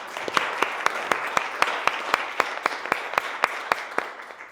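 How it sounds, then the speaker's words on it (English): Applause at a real estate lead generation event for realtors, with a few distinct, sharp claps cutting through a lighter background of other hands, an even, fairly quick rhythm heard close and clear. "Can I get a round of applause for Liberty Title"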